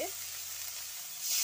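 Spice paste for a pointed gourd curry fries in a pan with a splash of water, giving a short, even hiss that swells louder at the end.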